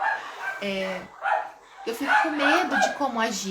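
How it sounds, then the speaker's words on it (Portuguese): A dog barks and yips repeatedly in the background while someone speaks Portuguese over it, the barks fairly close and mixed under her voice. "Tem cachorro aqui latindo."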